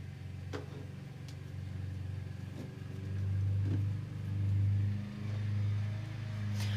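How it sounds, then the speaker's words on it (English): A neighbor's lawn mower cuts grass somewhere nearby, a steady low motor drone with swelling and easing surges, moderately loud and continuous with no voices over it. "So if you guys hear a mower in the background"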